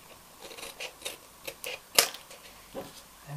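Scissors snipping away paper for a Christmas treat mug card craft, a series of short crisp cuts at an uneven pace with one sharper snap in the middle, close and fairly quiet.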